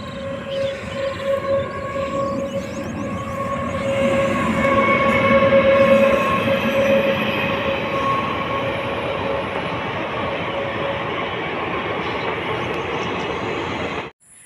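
A train rolls along a railway line near Agharpur Dungri in Purulia, a loud sustained rumble and clatter with a steady whistle-like tone, holding strong for several seconds before cutting off abruptly.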